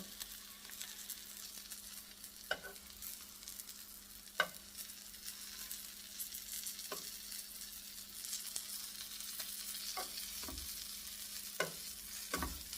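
Quiet, steady sizzling of French toast frying in a pan, with occasional soft utensil clicks and scrapes at irregular intervals.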